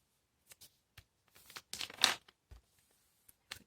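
Origami paper folded into a butterfly: sparse, close, quiet crinkles and creases, with a brief louder rustle of paper in the middle and otherwise near silence.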